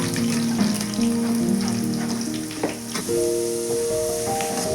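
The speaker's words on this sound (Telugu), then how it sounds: "కొద్దిగా బాగా మెత్తపడాలి అవి ఉల్లిగడ్డలు. వేగుతున్నాయి కదండి" Sliced onions fry in a pan for a homemade stuffed eggplant curry, a steady close sizzle and crackle over soft kitchen background tones.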